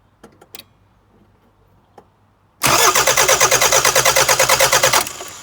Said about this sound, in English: I'm just going to crack an injector and spin it over and see if I've got some fuel